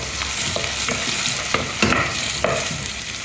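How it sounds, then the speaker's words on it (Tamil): Onions sautéed in oil in a pan for dal fry, a close, continuous sizzle with repeated stirring scrapes and a few louder spatula strokes against the pan. "அப்புறம் வெங்காயம் நல்லா வதக்கணும்"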